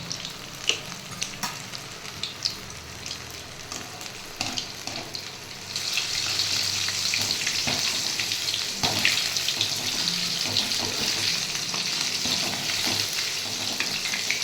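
Chicken 65 pieces frying in hot oil in a pan, giving a steady close sizzle and crackle that grows louder and denser partway through, with no talking.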